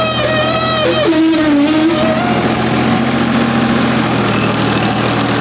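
A tractor engine revs up while working a field, a loud, steady low engine drone with a rising and falling pitch sweep near the start, heard close and alone.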